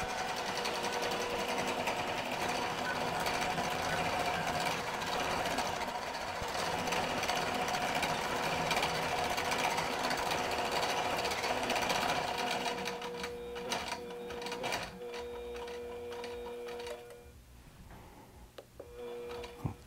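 A QBOT V3 quilting robot stitches an edge-to-edge quilt with a steady, rapid mechanical chatter that runs loud and unbroken, then thins near the end into intermittent motor whirs and clicks as the quilt advances.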